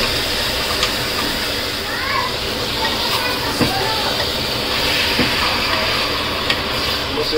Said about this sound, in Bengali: প্রেসারে ঘিয়ের মধ্যে মাটন ডাইরেক্ট।